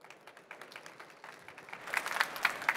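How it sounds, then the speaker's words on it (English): Applause at a hydrogen and fuel cell trade fair as a managing director is welcomed on stage, starting as sparse, faint claps and building into fuller, louder clapping. "Welcome him with a warm applause"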